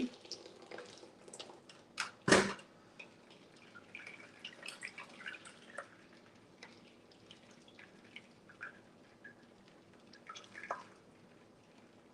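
Liquid is poured into a container while a pineapple ginger drink is being made, giving quiet splashes and drips with one sharp splash near the start, then softer trickling.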